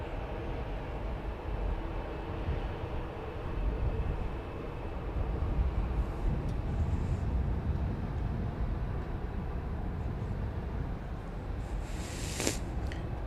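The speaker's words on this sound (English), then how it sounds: "Southwest Flight 3080 is going to San Diego, California, 737-800, and that'll be next for us to examine as far as its takeoff goes." Southwest Boeing 737-800 taking off from Dallas Love Field, a steady broadband jet roar at moderate distance that swells slightly mid-way, with no talk over it.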